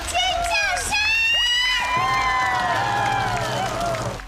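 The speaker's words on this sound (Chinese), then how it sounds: "尖叫声" A studio audience at a televised singing-competition selection round screams and cheers as a pop diva is welcomed on stage, with high shrieks and whoops over a dense, loud crowd roar throughout.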